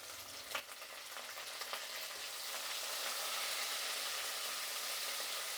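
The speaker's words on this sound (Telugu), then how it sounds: "ఇప్పుడు కరివేపాకు వేసుకుందాం." Curry leaves hit hot oil with crushed garlic and green chillies, flaring into a bright crackling sizzle that builds and stays steady, close and fairly quiet, with a few sharp pops early on and no talking.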